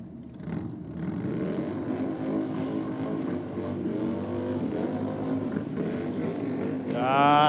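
Two Harley motorcycles at a drag race, engines rumbling steadily and then revving up sharply at the end, loud against the noise of the track.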